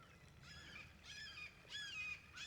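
A crow chasing a hawk outdoors gives three or four harsh, drawn-out caws, fairly faint and distant over a low background hum.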